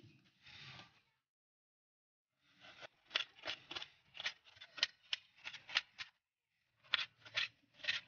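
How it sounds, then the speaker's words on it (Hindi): A knife cuts the top off a bell pepper on a kitchen board, with a few isolated crunches followed by a rapid series of crisp slicing snaps, quiet and close, separated by brief silences. "अब मैंने शिमला मिर्च ली है मैं इसका ये ऊपर वाला हिस्सा काट दूंगी"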